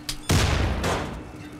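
Remote-detonated canister explosion in Wolfenstein II: The New Colossus, a sharp loud blast after a brief click, decaying into a long rumbling tail, with a second softer boom following.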